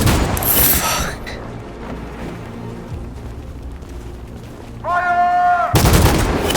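Gunfire in the video game Detroit: Become Human, heard as loud broadband bursts at the start and again near the end, with a quieter rumbling stretch between and a brief tonal game sound just before the final burst.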